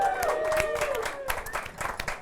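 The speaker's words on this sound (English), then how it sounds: "It deserves a round of applause in its own right" Audience applause in the KEF Music Gallery during a live conversation event: a short burst of scattered clapping from a crowd, with a voice sounding over it.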